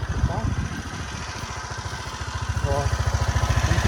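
A Honda CG Titan motorcycle engine idles close up with a steady, rapid putter that grows slightly louder, and a faint, deep rattle from inside the engine sits under the beat.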